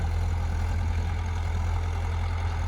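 A tractor engine idles steadily with a deep, even rumble, close by and continuous with no voices.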